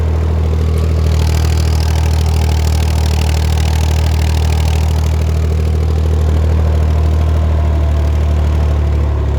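A Massey Ferguson 135 tractor engine idles steadily with a deep, constant rumble and low throb throughout, close and loud, with no talking.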